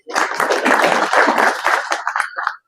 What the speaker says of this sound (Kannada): ಈ ಜಾತ್ರೆ ನಡೆಸ್ಕೊಟ್ಟಿರ್ತಕ್ಕಂಥ ಪೊಲೀಸ್ ಇಲಾಖೆಗೆ ನನ್ನ ಕಡೆಯಿಂದ ಒಂದು ಚಪ್ಪಾಳೆ.